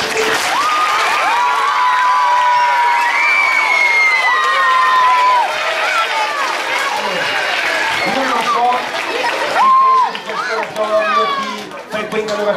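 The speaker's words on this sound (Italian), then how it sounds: "Facciamo ancora un applauso a tutti." Audience of primary school children at an Aladdin school show applauding and cheering, with high excited shouts and singing voices mixed over the clapping, loud and lively throughout.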